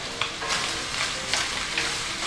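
Seafood pancit canton noodles with sliced white mushrooms being stir-fried in a hot pan, a steady close sizzle broken by several scraping stirs of the utensil, with no talking.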